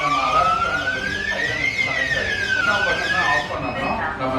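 A GSM home security alarm panel siren wails loudly and steadily nearby, its pitch rising and falling in slow sweeps, with a voice speaking over it.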